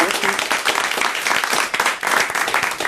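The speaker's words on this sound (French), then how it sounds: "Renaud de Castelginé, on vous remercie, on vous applaudit." A studio audience applauds on a French television show, a short, loud burst of clapping that keeps a strong, slightly uneven density for about three seconds.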